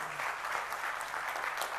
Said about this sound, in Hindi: मैडम के लिए एक बार जोरदार ताली होना चाहिए।